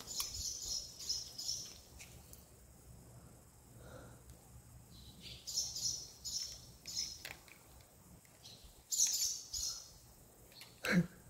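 Starlings calling outdoors, with scattered high chirps and squeaks that come in short bursts, fairly close and moderately loud, separated by quieter gaps.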